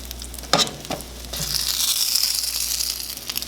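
French toast fries in butter in a pan with a steady close sizzle and hiss. A few soft clinks and scrapes of a utensil come near the start.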